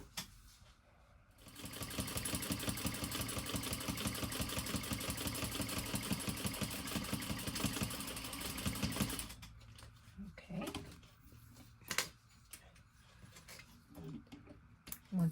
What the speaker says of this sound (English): now I will be stitching that in place